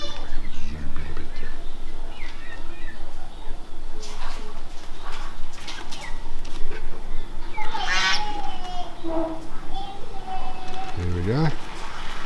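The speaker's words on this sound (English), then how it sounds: "Just going to persuade the goose to get out of the way." A goose on a road gives a few short honks, with a sharp call near the end, heard among outdoor ambience and passing noise while a person talks nearby.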